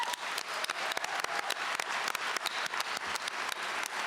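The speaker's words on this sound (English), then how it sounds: "Give yourselves a round of applause." Applause from a theater-company audience at an awards event, a dense steady patter of many hands clapping throughout at moderate loudness, with no voices over it.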